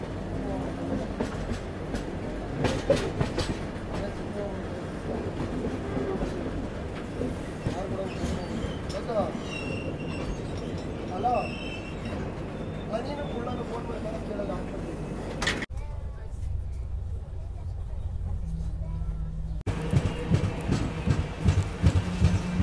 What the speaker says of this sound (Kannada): ಇದು ನಮ್ಮ Mangaluru junction Yeshwanthpur weekly express ಸದ್ಯಕ್ಕೆ ತಲುಪಿದೆ